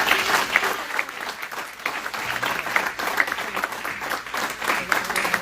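A church congregation applauding together, a steady, dense wash of clapping that fills the whole stretch at even loudness, with no speech over it.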